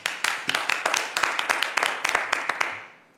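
A small group claps in a quick, slightly uneven rhythm for about three seconds, then the applause fades out.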